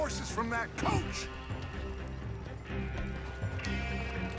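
Rhythmic hoofbeats of coach horses galloping in Red Dead Redemption 2, heard under talking voices and a background music bed.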